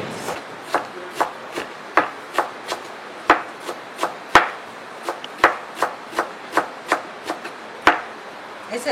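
Cabbage being chopped with a knife on a board, a run of sharp, fairly regular close-up chops, about two each second, with no talk over them.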